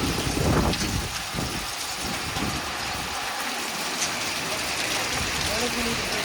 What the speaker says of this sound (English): Well, we got hail now.